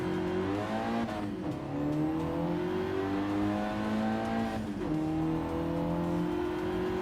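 A race car engine in Gran Turismo 7 revs hard through repeated gear changes, its pitch climbing and dropping in steady sweeps, loud and close, with a short tire chirp at the shifts and no talking.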